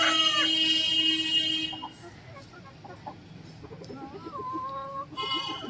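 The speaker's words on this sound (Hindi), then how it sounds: "मुर्गी से हो रही है लड़ाई मुर्गे की।" A hen and a rooster scuffle, with loud clucks and squawking calls up close, followed by quieter chicken noises and scattered movement before the squawks rise again.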